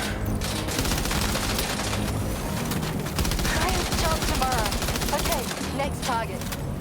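Fire support gunfire in Death Stranding 2, a dense, continuous rattle of rapid shots layered with busy combat noise, loud and steady throughout, with faint chirping tones near the end.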